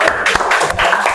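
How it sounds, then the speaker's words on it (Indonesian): Classroom applause in a teaching session, a short burst of several hands clapping close by, uneven and brief. "Oke. Tepuk tangan."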